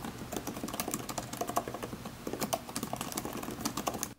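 Steady, close typing on an Apple Magic Keyboard for iPad, with quick soft key clicks in a fairly even rhythm that runs on without a break and with no voices over it.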